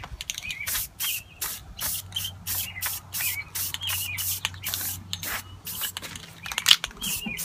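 Spray paint going onto a custom metal light hanger for a reef tank LED fixture: quick rhythmic bursts of hiss, many short sprays in a row with brief gaps, close and fairly loud.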